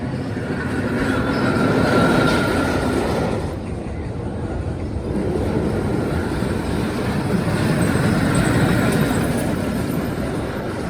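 The Magnum XL200 roller coaster at Cedar Point races past with a loud, sustained rumbling roar of wheels on track and some metallic squealing, steady throughout with a brief dip midway.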